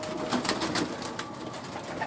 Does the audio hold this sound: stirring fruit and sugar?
no